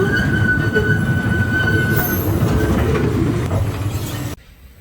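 A zoo tour train rolling on rails, loud rumble with squealing wheels and metallic clatter, steady for several seconds before cutting off abruptly.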